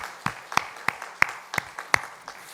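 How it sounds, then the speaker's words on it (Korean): During a Sunday church service, a congregation claps in welcome, about seven separate, distinct hand claps spaced roughly every third of a second, fairly close and crisp over a quiet room. "우리 박수로 환영합니다."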